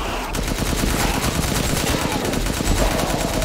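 Rapid bursts of gunfire in Resident Evil Village during the Mother Miranda boss fight, a dense rattling volley of repeated shots lasting throughout, with faint game sounds beneath.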